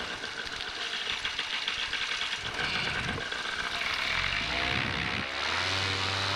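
A powered paraglider engine drones steadily in flight at the Salton Sea, a constant propeller buzz that holds level before shifting pitch near the end.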